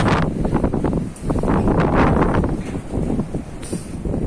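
Gusty wind buffets the microphone in loud, uneven rushes that swell and ease at a farm, with no voices heard.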